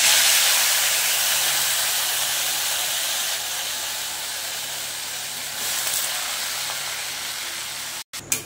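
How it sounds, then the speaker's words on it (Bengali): Marinated chicken is dropped into hot oil with whole spices and sizzles with a loud, steady hiss that slowly fades before a brief clatter at the end. "এবার দিয়ে দিচ্ছি ম্যারিনেট করা মাংসগুলো।"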